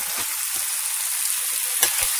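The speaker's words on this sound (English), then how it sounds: "Get these peppers going in there." Chopped, precooked peppers fry in a hot pan alongside black bean burgers, a steady close sizzle with a few faint stirring knocks.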